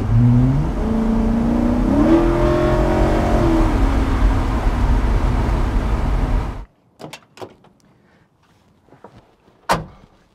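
A Ford truck with a swapped Coyote V8 rumbles and rises in pitch as it accelerates, loud and near, then cuts off abruptly, leaving a quiet interior with scattered clicks and a sharp knock.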